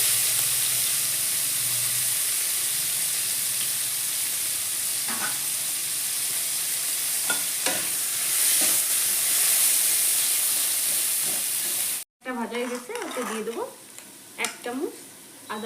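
Whole cumin seeds and chopped onion, with a dried red chilli, crackle and sizzle steadily in hot oil for about twelve seconds; the frying then cuts out abruptly and a voice speaks near the end.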